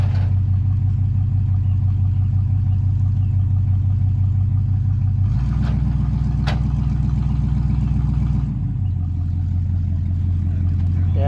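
Old wrecker truck's engine runs steadily nearby while moving an old truck onto a trailer, a continuous low idle that rises in pitch for a few seconds mid-clip before settling back down.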